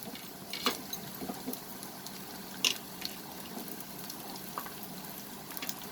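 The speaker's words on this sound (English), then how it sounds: "Now we are going to add the chopped onions." Chopped onions frying in a pan over a medium flame, a faint steady sizzle with occasional soft pops and stirring clicks, no voices.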